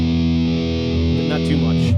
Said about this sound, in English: So that's your metal distortion.